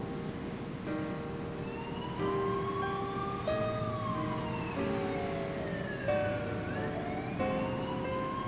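In the video game 428: Shibuya Scramble, a siren wails over nighttime Shibuya, its rising and falling sweeps heard over steady sustained tones throughout, with no talking.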